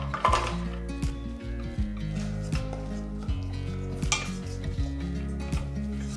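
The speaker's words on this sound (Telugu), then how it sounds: "ఒక గిన్నెలో అరకప్ నీళ్లు పోసి అందులో పావు కిలో బెల్లం వేసి కరిగించాలి" A spoon stirring a quarter kilo of jaggery melting in half a cup of water in a pot, with repeated metallic clinks and scrapes against the vessel at an uneven rhythm, close and clear, with no talking.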